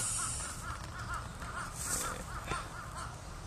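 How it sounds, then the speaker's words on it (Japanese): Crows caw repeatedly near their nests in a forest, a string of harsh, moderately distant calls over quiet background hiss. "ちょっとカラスがうるさいかもしれません。"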